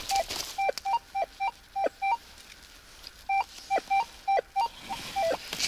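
A Rutus Atrex metal detector in the field sounds a series of short, sharp electronic tones, about a dozen in uneven pairs and runs with gaps, clear and close over faint background noise.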